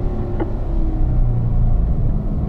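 A Corvette on a track engine rumbles in a steady, loud, low drone as the throttle is squeezed, heard from inside the car with a continuous heavy hum.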